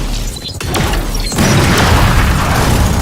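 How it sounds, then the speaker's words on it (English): A grenade goes off in a video game: a sharp crack, then a heavy, booming burst that spreads into a sustained loud roar of debris and noise. "Grenade out."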